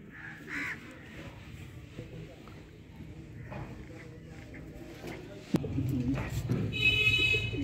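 Sialkoti chuhay pigeons coo and flutter close by amid outdoor background noise and other bird calls, growing louder toward the end.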